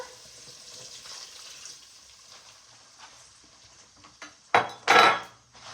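Water is poured into a hot pan holding cabbage and beef sausage, giving two short, loud splashing sizzles near the end after a quieter stretch of faint kitchen clatter.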